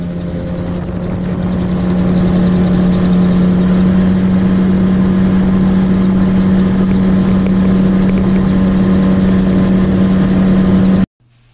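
Gyrocopter flying south into a 15-knot wind over Snowdonia near Caernarfon Castle, with a loud steady drone of engine and rotor heard close from the cockpit and a fast rhythmic chop. It runs unbroken, then cuts off abruptly at the end.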